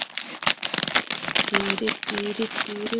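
Plastic packaging around a bootleg Sonic the Fighters Fang the Sniper plush being snipped open with scissors, a run of close crinkling, crackling cuts under steady talking.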